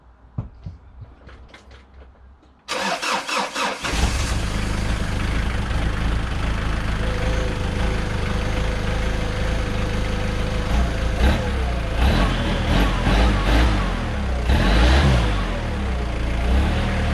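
Fiat Strada engine cold-starting after a long lay-up, catching abruptly from quiet and settling into a loud, steady run with a few throttle blips and revs rising and falling close by.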